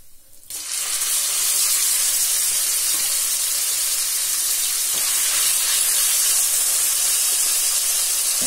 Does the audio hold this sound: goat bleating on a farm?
no